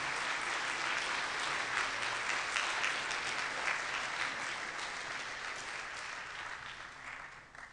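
Audience applause for new inductees at a university faculty awards ceremony, a sustained broad roll of clapping that holds steady and then slowly tapers toward the end.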